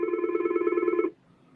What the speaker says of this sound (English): Better answer that phone.